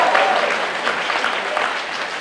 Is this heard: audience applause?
yes